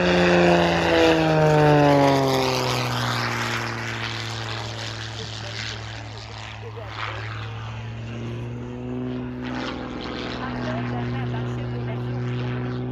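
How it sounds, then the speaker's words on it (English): A small propeller stunt plane flies close to the ground, its loud droning engine holding steady harmonic tones that dip in pitch as it passes, with a voice talking over part of it. "This small stunt plane flying close to the ground."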